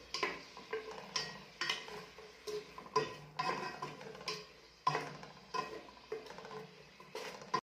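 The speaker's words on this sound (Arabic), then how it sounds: "حطيت طماطم ملحيه كيما هكا نقعد نحرك كيما هكا" A spoon stirs salted tomatoes in a cooking pot, making repeated scraping and clicking strokes in a steady, uneven rhythm, close and fairly quiet, with soft sizzling underneath.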